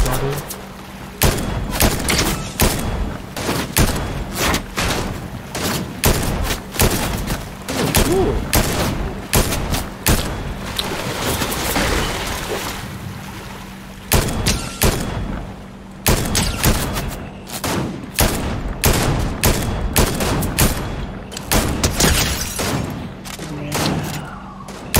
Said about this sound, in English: Bullets, a lot of bullets